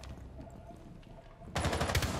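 Gunfire in the tactical shooter game Rainbow Six: after a quieter stretch, a loud, dense burst of rapid shots erupts and keeps going, close and harsh, with no talking over it.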